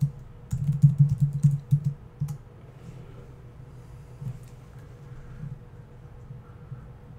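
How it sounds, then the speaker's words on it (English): Typing a root password on a computer keyboard during a CentOS 5.5 install, a quick run of soft clicking keystrokes up front that gives way to a few sparse taps against a quiet room hum. "make up a really secure root password for your system. And you have to type it correctly twice."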